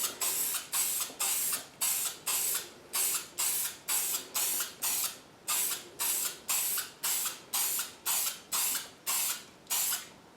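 Short bursts of aerosol spray paint go onto rust spots on a Mercedes Sprinter van. About twenty even, rhythmic hisses sound close and clear, with brief gaps between them and no talk over them.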